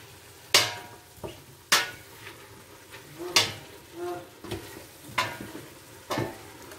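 A spoon working through garlic, onions and a pepper in a pot with gentle sizzling, sharp scrape-and-knock strokes arriving roughly once a second over a quiet background hiss.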